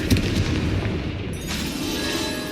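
Confringo explosive spell going off in Hogwarts Legacy: a loud, heavy blast right at the start that rolls into a dense rumbling wash of combat noise, sustained for a couple of seconds without speech.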